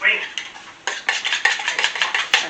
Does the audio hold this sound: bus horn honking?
no